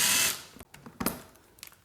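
Ratchet turning a fairing bolt on a Yamaha R6 motorcycle: a brief loud whir up front, then a few quick clicking strokes and metallic ticks, close by with no talking.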